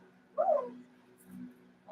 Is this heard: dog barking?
yes